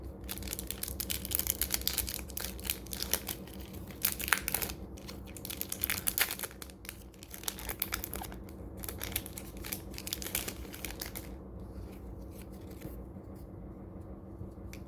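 A vintage Magic: The Gathering Odyssey booster pack wrapper crinkles and tears as it is opened. Quiet, close crackling comes in uneven bursts with short pauses and fades toward the end.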